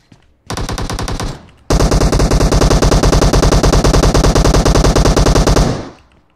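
Automatic fire from a machine gun in the PUBG Mobile shooter game: a short loud burst, a brief pause, then a long sustained stream of rapid shots that stops abruptly, with no voices.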